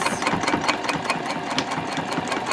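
A sewing machine running in reverse while stitching a zip-top tote bag gives a close, steady mechanical whir with rapid rhythmic needle pulses, heard alone without talk.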